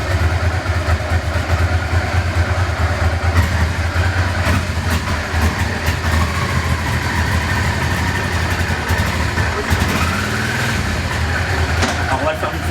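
Used motorcycle engine running steadily as gears are shifted down from fifth, a constant low mechanical drone with a change in pitch near the end, under someone talking.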